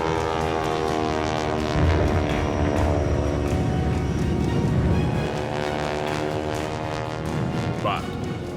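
A biplane rolling at an airshow gives a loud, steady engine drone with shifting harmonic pitch. A voice talks over it throughout.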